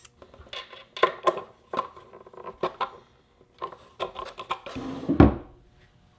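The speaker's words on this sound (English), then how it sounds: "Next, I'll countersink the holes on the inside of the drawer." Intermittent scraping and grinding bursts of a countersink bit cutting screw holes inside a wooden drawer, short strokes separated by pauses, close and fairly loud, with a heavier rasp near the end.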